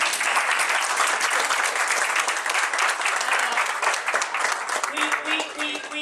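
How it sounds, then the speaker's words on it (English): Wedding guests applaud together in a steady wash of clapping that holds loud and continuous throughout, with voices murmuring faintly underneath. "I'd like to clap for that."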